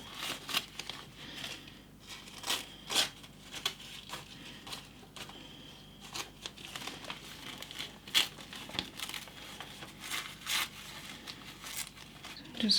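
Paper crinkles and tears in repeated short bursts while a paper bag journal page is glued and trimmed by hand, close and fairly loud, with no one speaking.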